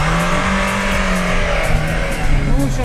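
A Lada Niva accelerates hard off-road, its engine droning loud and steady with rising pitch, rough rumbling and bumpy surges throughout.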